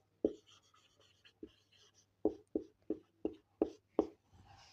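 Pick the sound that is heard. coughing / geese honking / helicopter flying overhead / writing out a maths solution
writing out a maths solution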